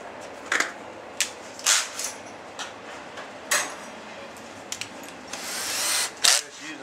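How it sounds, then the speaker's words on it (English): A power drill with a 3/16 bit bores a run of holes in a boat cleat connector piece, sounding as several short, sharp whirring bursts separated by pauses, close and loud. "I just use a 3/16 bit to drill a bunch of holes."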